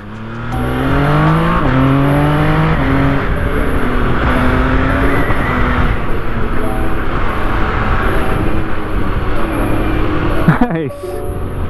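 An MV Agusta Brutale 1000 is ridden hard on a clear road, engine revs sweeping up through several quick gear changes, then holding a loud steady roar with wind noise, the rider's voice briefly over it.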